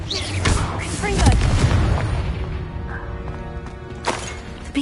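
A Confringo blasting spell explodes in Hogwarts Legacy, a loud booming blast with crackling debris rolling through the game's combat noise, followed by smaller impacts.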